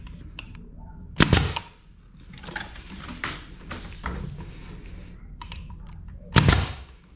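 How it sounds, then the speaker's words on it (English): Two sharp pneumatic bangs from a brad nail gun driven by an air compressor, fastening trim during a self-adhesive wall mural installation, spaced a few seconds apart and fairly close, with quiet handling noise between. "So I have an air compressor hooked up. This is a brad nail gun,"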